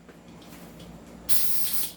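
Pressurized green gas sprays out with a loud, steady hiss for about half a second while an airsoft magazine is being charged from a 12 kg can held upside down, over a low room hum.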